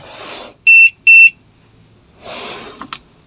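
A Sonoff alarm system gives two short, loud, tonal beeps close by, between soft rustling handling noises, with no talk.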